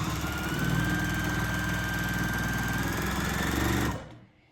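A sewing machine runs steadily through free motion quilting on a ghost-themed quilt, a loud, close, continuous mechanical whir with a fast rhythmic chatter that stops abruptly near the end.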